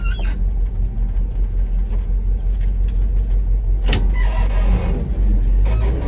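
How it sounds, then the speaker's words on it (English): A 1979 Ford L-600 truck with a worn transmission and tired synchronizers drives along, its engine rumbling steadily and loudly up close inside the cab, with a sharp clunk and rattle partway through as it goes into gear. "going into gear, in 3rd gear and 5th gear, it has a tendency to grind"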